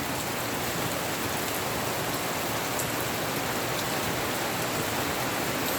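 Morning rain falls in a steady, dense hiss without pause, fairly loud and even throughout, with no voices.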